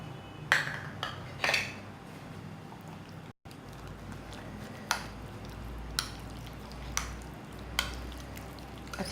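Raw chicken pieces being mixed by hand with turmeric, coriander, red chilli and cooking oil, giving soft wet squishing and a few light clinks of a bowl, low and close with no talk.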